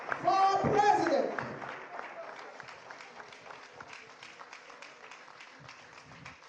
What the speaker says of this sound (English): A round of applause for our president.